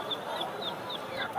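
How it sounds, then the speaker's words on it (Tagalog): Soft chicken clucks and faint chirps rise over a busy pet market murmur in San Jose, Bulacan, with scattered voices talking nearby as the birds call in brief, repeated bursts. "gandang manok mga tol"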